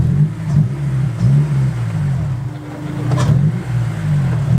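Honda S2000 fitted with an AEM cold air intake, its engine blipped and revved in short throttle bursts over a steady low idle, close and fairly loud with no talk.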